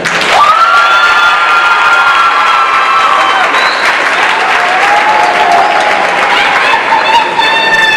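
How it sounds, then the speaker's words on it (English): An audience at an evening graduation ceremony breaks into loud, sustained applause with cheering, whoops and shouting voices, filling the room for the full stretch. "So tonight, parents and I, we applaud you. Give them a hand."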